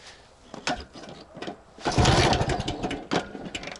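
IZh enduro motorcycle engine, just repaired, sputtering and running unevenly in short bursts with a louder rough surge midway, close and fairly faint, no talk.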